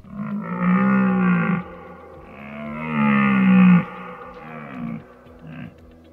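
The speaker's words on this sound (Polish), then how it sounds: "to właśnie jesienią mamy rykowisko, czyli miłosne harce jeleni" Red deer stags roar during the autumn rut on Skrzyczne mountain, with deep drawn-out bellows repeated several times, loud and fairly close, with no talk.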